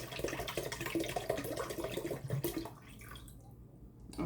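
Bottled water pours into a cooking pot for homemade chicken noodle soup, a steady splashing stream that runs for about three seconds and then tapers into quieter trickles and drips, close and alone.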